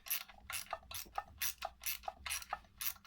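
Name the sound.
tightening bolts on a Peugeot 103 intake pipe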